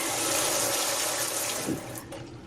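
A shower runs with strong water pressure in a cruise ship cabin bathroom, a steady dense hiss of spraying water close by, continuous for a few seconds with slight shifts as the stream hits surfaces.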